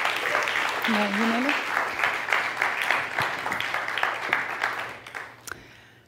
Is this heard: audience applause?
yes